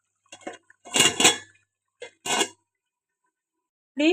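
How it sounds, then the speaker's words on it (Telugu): A metal lid is set onto a cooking pot of fish curry, making a close sequence of clattering, ringing clanks in several short bursts with quiet gaps between them. "మూత పెట్టుకోండి."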